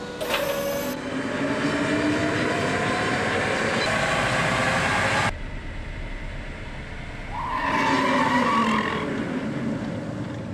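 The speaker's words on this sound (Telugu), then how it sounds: "బ్రేక్ పనితీరు నిర్ధారించడానికి రోల్ అండ్ బ్రేక్." A Tata Nexon EV on a roll-and-brake test rig gives a loud, steady mechanical roar of spinning rollers that cuts off abruptly partway through, followed by a quieter hum and then a rising whine that swells and fades near the end.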